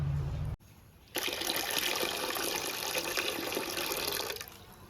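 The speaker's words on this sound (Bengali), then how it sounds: "তো ডালটা আমি ভালো করে ধুয়ে নেব।" Tap water running into a bowl of masoor dal lentils as they are rinsed in a home kitchen, a short splash, a pause, then a steady close stream that tapers off near the end.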